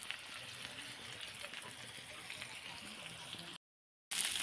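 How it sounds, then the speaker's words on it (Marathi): Bagda fish fry in a pan with a soft, steady sizzle and crackle. It stays fairly quiet and even, cuts out briefly near the end, then resumes. "तर मी आता त्याला घेते फ्राय मारून"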